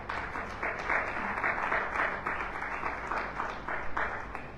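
Church congregation applauding during a Sunday service, a steady patter of many hands clapping at modest volume, fairly even and sustained throughout.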